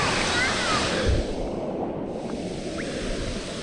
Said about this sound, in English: Swimming up to the waterfall